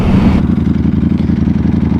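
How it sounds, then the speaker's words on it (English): 2018 Ducati Panigale V4S, its V4 engine and exhaust rumbling up close and loud, with a brief rev at first that settles into a steady, pulsing idle. "I just absolutely love listening to that exhaust and that V4 engine rumble away"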